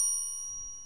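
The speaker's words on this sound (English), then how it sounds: "click that bell notification button" A single bright ding of a notification bell sound effect, sharp at the start with a clear ringing tone that decays over under a second, alone.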